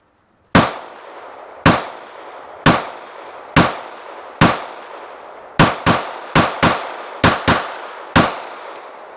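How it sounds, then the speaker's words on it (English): Rapid fire from a Ruger LCP MAX compact pistol: eleven sharp, loud gunshots, spaced about a second apart at first and then coming in a quicker burst, each with a short decaying echo and no voices. "did a little rapid fire there"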